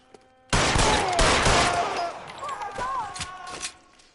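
Gunfire in L.A. Noire, a loud burst of shots starting abruptly and rattling on for a few seconds, with voices talking over the shooting.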